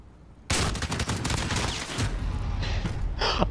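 Rapid, loud gunfire bursts out suddenly in a Call of Duty: Modern Warfare gun game match on the Rust map, with a dense volley of repeated shots that continues for several seconds before trailing into scattered blasts.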